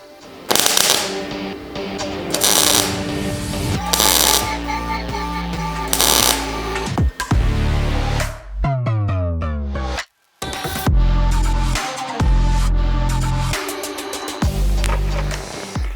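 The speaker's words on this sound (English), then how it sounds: "So I guess back to welding for another couple hours." Spot welding on a Nissan car body during collision repair: loud, dense bursts of crackling and buzzing arc noise with brief pauses between welds, fairly close and continuous for most of the stretch.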